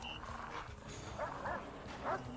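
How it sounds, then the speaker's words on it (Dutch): Dogs in the prison game Prison Architect, escape mode, give a few short, moderately faint barks and yips spaced over a couple of seconds against a steady background hum. "Klote honden, for real."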